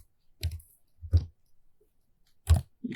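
Three crisp computer mouse clicks, spaced about a second apart, sound close and alone against near silence while working in Visual Studio.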